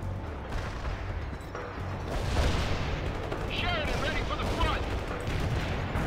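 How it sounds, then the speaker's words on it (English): Battlefield gunfire and explosions from World in Conflict crackle and boom at mid distance in a busy, continuous barrage, with voices talking over the fighting. "They're firing at us"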